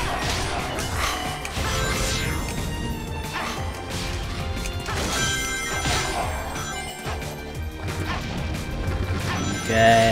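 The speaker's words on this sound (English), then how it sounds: "Shattering glass." Glass shattering in the video game Sonic Generations, loud crashing bursts repeating over a dense, busy game soundtrack throughout.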